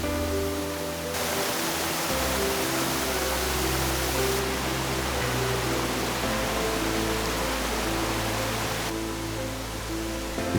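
Steady, dense roar of a waterfall cascade at Crabtree Falls in Virginia's Blue Ridge Mountains, water tumbling over rocks beneath old fallen foliage; broadband and continuous with no voices.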